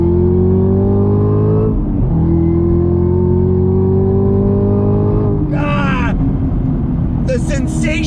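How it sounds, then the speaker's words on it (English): A Chevy Camaro ZL1 1LE with a supercharged V8 pulls hard through the gears, loud close engine climbing in pitch, dropping briefly at each quick shift, then winding up again with a whining edge. "Having that supercharged V8 up front, feeling it as you're rolling through the gears."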